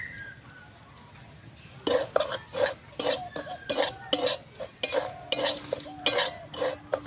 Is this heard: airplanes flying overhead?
no